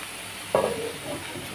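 Amaranth leaves stirred in a hot pan for a Kerala-style thoran, a single short scraping swish with a soft sizzle that fades into quiet pan hiss.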